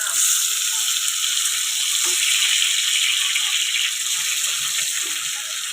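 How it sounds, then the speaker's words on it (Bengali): Tomatoes frying with onions and chilies in a pan make a loud, steady hiss of sizzling oil up close, easing slightly toward the end with a few faint stirring taps. "একটু টমেটোটা ভাজা হয়ে গেছে"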